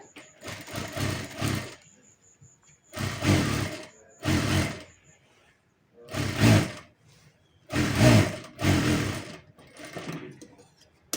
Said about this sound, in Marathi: आता आपण डबल टिप मारून घेऊयात